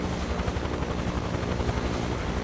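A helicopter in Microsoft Flight Simulator drones with a steady, loud rotor chop and engine roar, continuous and close for the whole stretch, with no talking.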